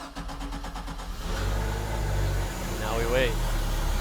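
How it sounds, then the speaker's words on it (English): A MerCruiser inboard/outboard boat engine, run during winterization with stabilized fuel and fogging mixture, turns over and settles into a steady, loud idle rumble, with someone speaking briefly as it starts. "now we're ready to run this engine so we can get our stabilized fuel and our fogging mixture all the way through the fuel system"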